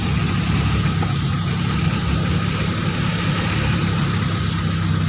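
Idling car and truck engines in stopped traffic, a steady, continuous low rumble with no voices and a mild mid-range hum throughout.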